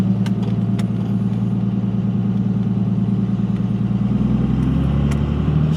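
A Cummins diesel pickup with a manual transmission idles in a steady, loud, low rumble, with a noisy, failing power steering pump whining along continuously.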